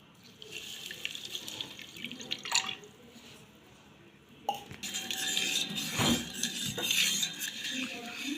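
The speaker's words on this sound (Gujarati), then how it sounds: "તો હવે એને આપણે હલાવીને એકદમ ગોળ ઓગાળી દઈશું" Jaggery dissolving in about a glass of water in a pan, stirred with a utensil: close metallic scraping and clinking with soft watery swishing, continuous and irregular, louder and busier in the second half, no talking.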